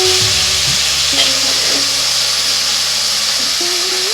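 Chopped taro roots sizzle steadily in hot oil, with a dense, constant hiss and faint stirring clinks.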